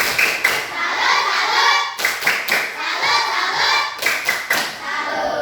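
A class of schoolchildren performs a rhythmic salute clap in a classroom, loud group claps in repeated patterned bursts across several seconds, with faint children's voices mixed in.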